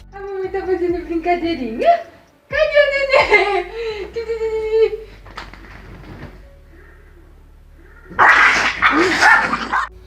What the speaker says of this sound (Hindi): वैसे ही ये 2 कुत्ते एक दूसरे से झगड़ने लग जाते हैं।